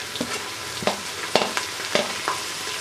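Green chillies frying in a pan, a constant sizzle broken by several sharp spoon or spatula knocks against the pan at irregular intervals, close up and with no talking.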